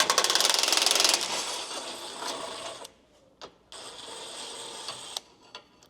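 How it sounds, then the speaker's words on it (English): A ratchet wrench clicks rapidly while backing out a 13mm factory bolt on a Ford F-150 intercooler brace, loud and dense at first, then easing into a few separate bursts of clicking with quiet gaps. "this factory is a 13mm bolt here, so we'll back this out"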